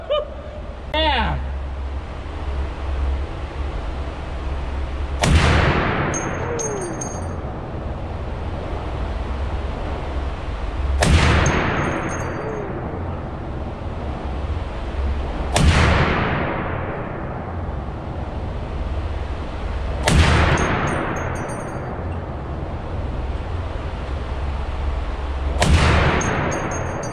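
A Barrett M82 anti-materiel rifle fires five heavy live rounds, spaced roughly five seconds apart, each a sharp blast with a long ringing decay, with a faint metallic clang early on.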